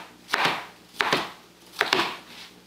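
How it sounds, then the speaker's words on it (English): A knife chops an onion on a cutting board in a home kitchen: three crisp, close chops spaced evenly under a second apart, with no talking. "Cut about 1/3 of the onion off."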